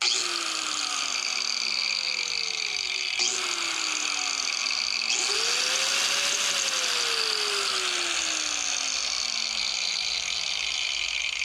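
A Bauer 1966E-B angle grinder runs continuously with a steady, high-pitched motor whine. Lower sliding tones rise and fall beneath it throughout.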